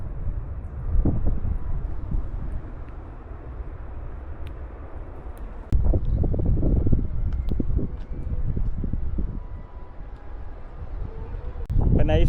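Strong gusty wind buffets the microphone as rain approaches outdoors, a steady roaring rumble swelling in waves with someone talking over it.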